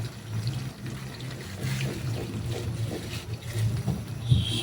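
Coconut milk is poured into a pan of shrimp with string beans, giving a close liquid gurgle and splash that blends into a soft simmering bubble.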